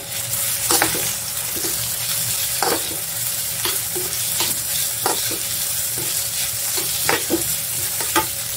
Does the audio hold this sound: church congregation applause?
no